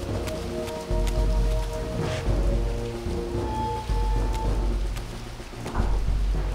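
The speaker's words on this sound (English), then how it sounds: "Yes, I'm outside. I hear the rain." Steady video-game rain from Legacy of Kain: Soul Reaver 2 pours down, with a soft broadband hiss over a low rumble and a few brief tonal chimes in the background.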